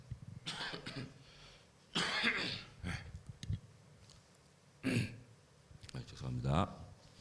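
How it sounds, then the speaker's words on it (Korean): Coughing by a man during an evening church service, several harsh, throaty coughs in separate bursts with throat clearing, heard up close and mixed with brief speech. "기침을 하면서 가래가 나와야 목이 좋아집니다. 기침 몇 번 했더니 목이 좀 좋아지잖아요."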